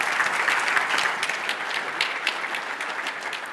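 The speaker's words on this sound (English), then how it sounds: "How about a round of applause for these guys today?" An audience applauds panel guests at a corn and soybean event in a dense, sustained burst of clapping that tapers off slightly toward the end.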